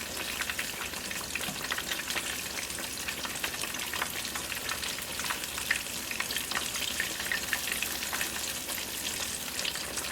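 Battered fish fries in hot oil over fairly high heat, a steady, dense sizzle and crackle that holds at an even level throughout, with no voices.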